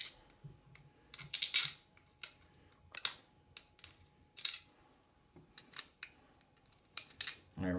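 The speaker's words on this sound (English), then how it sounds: "Got my scissors. I can just trim this up a little bit." Crisp scissor snips cut thin metal in short bursts, some single and some in quick pairs, close and fairly quiet with brief pauses between.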